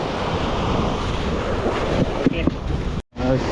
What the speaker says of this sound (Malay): Sekejap, ombak dah sampai.